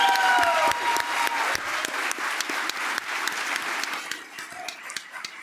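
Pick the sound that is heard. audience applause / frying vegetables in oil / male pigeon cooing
audience applause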